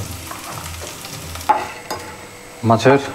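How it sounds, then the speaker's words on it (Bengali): Fish head frying in hot oil for a mourala fish curry, a low steady sizzle with a few sharp spatters and a louder crackling burst near the end, with no talking. "মাছের মাথাটি ভাজা হয়ে গেছে গা"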